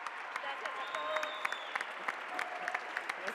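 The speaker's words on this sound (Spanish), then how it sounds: "Un aplauso para todos los panelistas." Audience applauds a panel of speakers at an interactive forum, a dense, steady patter of many hands clapping at moderate distance, with a voice speaking faintly over it.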